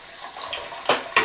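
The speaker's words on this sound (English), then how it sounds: "a little bit of water" A tap runs a little water while keys from an NCR 250 are being cleaned, a soft steady trickle followed by two brief louder splashes near the end, close by.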